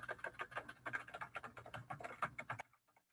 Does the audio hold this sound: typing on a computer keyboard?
yes